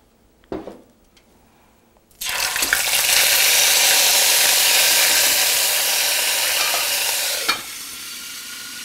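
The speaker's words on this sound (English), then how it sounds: "when we add the ginger and the garlic paste, it's going to splutter very badly" Ginger and garlic paste hits hot oil with a sudden loud burst of spluttering and sizzling that rages for about five seconds, then cuts back to a quieter fry after a brief clatter; a knock sounds earlier.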